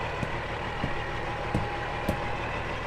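A truck engine idles nearby at a truck stop in a steady low rumble, with a few soft knocks or thumps breaking through at intervals and no one talking.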